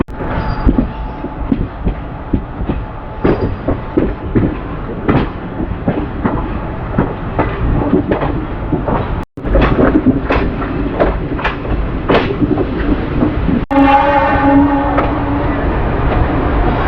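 A sleeper train bound for Kacheguda from Puducherry rumbles steadily along the rails with rhythmic clacking over joints and a couple of sharp metallic bangs, heard close and loud throughout.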